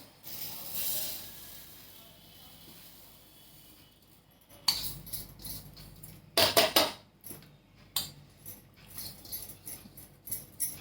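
An electric mixer grinder pulsed on and off while grinding cooled niger seeds: after a quiet start, several short, sharp rattling and clattering bursts come at irregular intervals, fairly faint overall.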